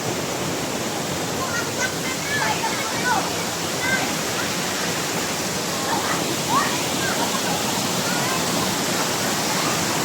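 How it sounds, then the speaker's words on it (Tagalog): Heaven Falls, a tall waterfall in Davao de Oro, Mindanao, roars as a steady broadband rush of falling water that covers the whole stretch, with faint chirps and sounds of people nearby under the din. "ito yung Heaven Falls na tinatawag nila dito sa Mindanao. Davao de Oro."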